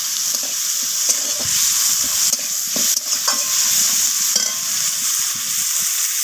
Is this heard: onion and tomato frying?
yes